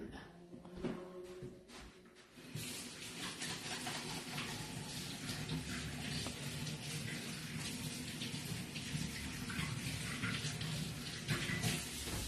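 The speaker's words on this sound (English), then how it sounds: "let me wash my hand" A cook washes hands under a running kitchen tap, a faint steady splashing hiss of water that continues throughout, with no speech.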